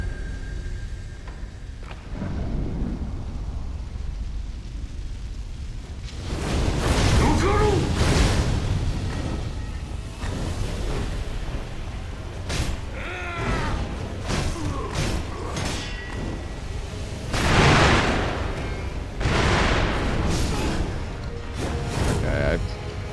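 Firecracker prosthetic tool bursts in the video game Sekiro, several sharp pops and thuds scattered over rumbling game combat audio, with a voice talking in places.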